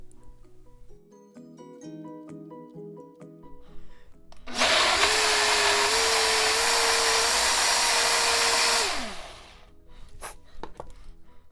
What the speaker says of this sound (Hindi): प्याज लहसुन अदरक और दही को फिर अच्छे तरीके से ब्लेंड कर लेंगे